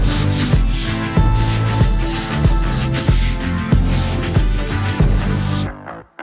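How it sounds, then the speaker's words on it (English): A stiff bristle broom or brush scrubs a natural stone surface treated with an etch cleaner, producing loud, close, rhythmic rasping strokes that repeat about twice a second before stopping. "We're also going to agitate it and scrub it with a good stiff bristle broom or brush."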